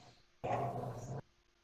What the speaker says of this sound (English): Your dog is angry.